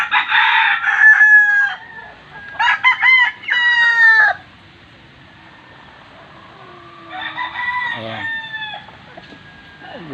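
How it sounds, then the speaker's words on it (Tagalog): Chickens in a Filipino backyard flock crow loudly and cluck in several bursts close by, with a long stretch of quiet in the middle before another rooster crow and clucking near the end. "Ito yung mga manok na to sa akin bilas"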